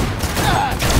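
Rapid video-game gunfire in a Cyberpunk shooter, a dense burst of shots filling the full second at steady loudness with no talk over it.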